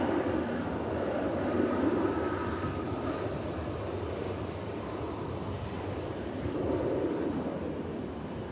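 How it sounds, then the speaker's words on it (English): An old passenger plane passes at DFW Airport, its steady jet-engine roar heard at a moderate distance and holding level for several seconds. "That's a rather long in the tooth passenger plane."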